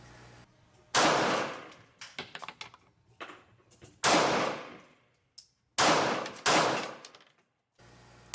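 Four sharp, loud pistol shots from a Radom P-64 chambered in 9x18 Makarov, fired at 35 feet with a 20-pound recoil spring, spaced irregularly with echoing decay and softer handling clatter between them.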